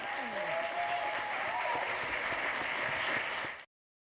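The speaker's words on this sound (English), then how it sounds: "Let's give everyone here a round of applause." An audience at a book talk on The Autobiography of Malcolm X gives sustained, dense applause that continues evenly for about three and a half seconds and then cuts off abruptly.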